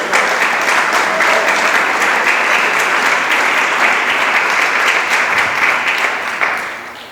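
A church congregation claps together in praise during a Spanish-language service, a dense, steady roar of many hands held for about seven seconds before tapering slightly at the end, with no talk over it.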